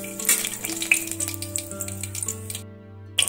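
Whole cardamom, cinnamon sticks and cloves fry in hot oil with a steady, crackling sizzle and scattered pops, close and alone, fading out near the end.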